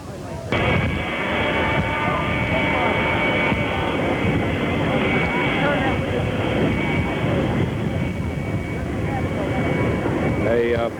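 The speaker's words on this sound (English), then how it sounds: "Now Air Force number 1 taxiing in." Air Force One jet airliner taxiing in on an airport apron, a loud steady engine roar with a high whine, continuous throughout over a broadcast commentary feed.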